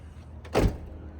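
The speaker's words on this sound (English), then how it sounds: "So let's go ahead and close the door" A rear door on a 2003-2007 Chevrolet Silverado crew cab pickup shuts with one solid, close thump that rings out briefly, with no talking around it.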